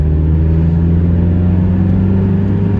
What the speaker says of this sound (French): l'échappement qui est bien rauque et tout.